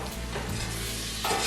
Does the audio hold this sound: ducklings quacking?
no